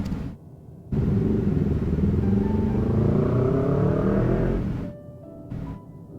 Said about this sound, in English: I'm sorry for the background noise of the motorcycle.